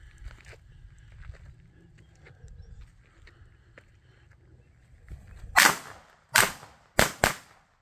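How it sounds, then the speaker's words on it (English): Mad Rat Class C firecrackers go off in four sharp, loud bangs near the end after a slow fuse, following several seconds of quiet outdoor rustling and faint low rumble. "These are beautiful crackers."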